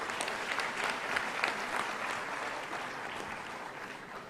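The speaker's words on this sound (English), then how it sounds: "one more round of applause for the medal winners" Audience at a university convocation applauds the medal winners with steady, dense clapping that holds throughout, filling the hall at an even, sustained level.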